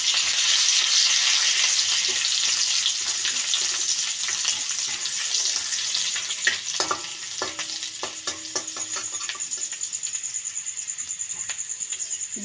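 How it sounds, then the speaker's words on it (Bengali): Chopped garlic frying in hot oil in a wok gives a loud, steady sizzle that fades somewhat midway, followed by a run of light scraping and clinking stir sounds. "ভিতর দিয়ে দেবো রসুন কুচি"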